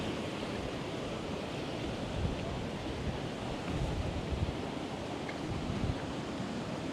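Steady roar of ocean surf mixed with wind buffeting the microphone, loud and continuous throughout.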